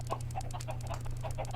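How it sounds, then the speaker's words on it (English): A crowd of chickens in Minecraft version 1.6.4 clucks in quick, overlapping bursts over a steady low hum, the many birds packed together and fairly faint. "there is an insane amount of chickens"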